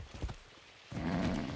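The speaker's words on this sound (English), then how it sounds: "That's a good horse." Horse hooves clip-clop in Far Cry 6, a few soft hoof knocks, then a denser rustling run of steps, close and fairly quiet.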